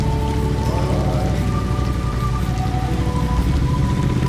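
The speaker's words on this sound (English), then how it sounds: "we got drenched instantly as it was pouring continuously" Heavy rain pours down steadily, a loud, dense hiss of drops drumming on surfaces with no pause.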